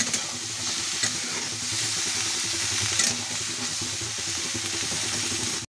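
Green beans frying in a pan with a sprinkle of pepper powder, stirred steadily: a continuous close sizzle with scraping spoon strokes throughout, no voices.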